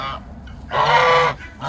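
Geese honk loudly and close by, with a few short calls followed by one long, harsh honk and another starting at the end, and no talking underneath.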